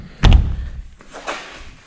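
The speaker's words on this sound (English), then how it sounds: "So now when I close the door" A Mini R53 car door swings shut with one solid thunk, followed a second later by a softer secondary knock as the window settles into its seal.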